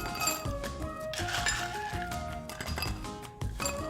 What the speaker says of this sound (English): Go a half a cup of ice in each glass.